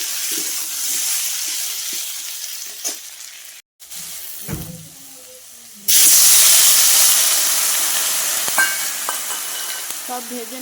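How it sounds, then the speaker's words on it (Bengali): Potatoes fry in a pan with a close crackling sizzle that cuts out briefly, then returns as a louder, brighter hissing fry with a few knocks of a utensil; no one speaks. "এই যে আর এখন আলুগুলো ভেজে নিচ্ছি"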